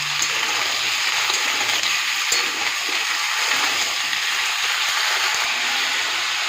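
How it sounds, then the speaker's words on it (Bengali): Potatoes and onions frying in a pan, a steady close sizzle with constant crackle and hiss that runs evenly throughout without talk. "এবার আলু পেঁয়াজ খুব ভালো করে ভেজে নেব"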